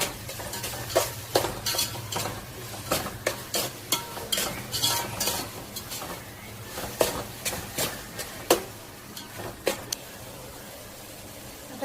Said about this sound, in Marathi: बारीक चिरलेले टोमॅटो 5 ते 6 आहे ते घालून घेऊया. एक 2 ते 3 मिनिटे याला परतून घेऊ.